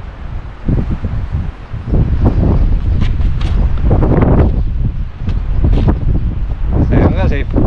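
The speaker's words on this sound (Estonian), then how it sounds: "Jube hea tuul on." Strong outdoor wind buffets the microphone in a disc golf park, a steady low rumbling roar that continues throughout while people talk over it.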